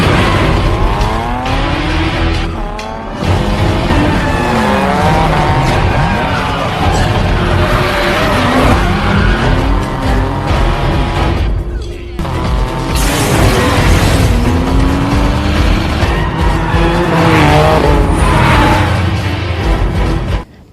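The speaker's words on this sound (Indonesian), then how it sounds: "Tak lama Takashi datang dan balapan pun akhirnya dimulai." Street race scene from the film Tokyo Drift, with loud roaring car engines revving and shifting pitch, tires squealing and skidding through corners, and occasional booming impacts, continuous and close throughout.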